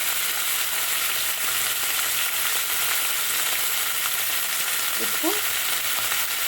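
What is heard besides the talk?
peas and salt added to sizzling cumin in oil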